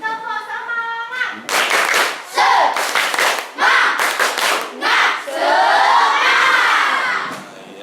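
A primary school class does a rhythmic spirit clap, bursts of children clapping in time and shouting together, ending in a long group cheer, with a teacher's voice heard at the start.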